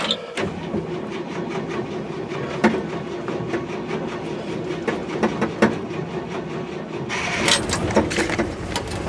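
An old engine, started with choke and switch, turns over and settles into a loud, steady, smooth-running chug with rhythmic clatter throughout, rising in the last second.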